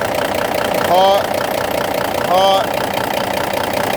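A Cummins 444XT big cam diesel engine idles with one cylinder not firing, a steady loud rumbling throb with an uneven beat, while someone speaks briefly twice over it.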